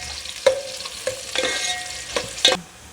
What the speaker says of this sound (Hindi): ये मैं इसमें डाल दूँगी। इस तरीके से हम इसको लाइट ब्राउन कर लेंगे।